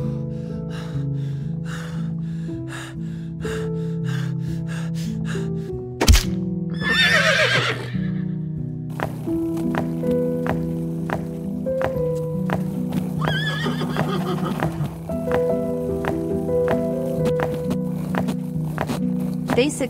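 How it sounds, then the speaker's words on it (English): Horses neigh and whinny loudly while their hooves clip-clop steadily as they labor up the rest of a slope under load, with breathy snorts and gasps between calls. "The horses felt very exhausted climbing the remaining slope."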